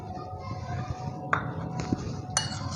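Spoon clinks sharply against a bowl a few times while tamarind juice is added to dal chana chaat, set against a steady low kitchen hum.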